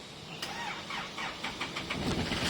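A diesel pickup engine, a hot engine that is hard to start, cranks and catches, turning over several times before rumbling into a rough start, fairly quiet and slightly distant.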